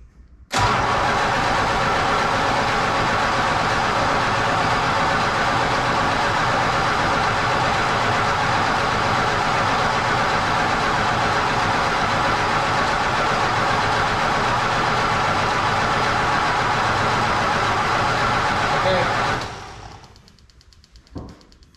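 A carbureted Plymouth Fury engine cranks briefly, catches and runs loud and steady for nearly twenty seconds, then cuts off abruptly.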